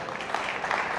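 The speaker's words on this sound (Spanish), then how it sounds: "Denle un aplauso a Dios." A church congregation claps during a sermon, a brief, steady burst of applause lasting about a second.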